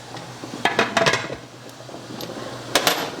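Metal lid of a pressure canner set down and fitted into place, a few close clanks and scrapes in two short clusters with quiet gaps between, no speech.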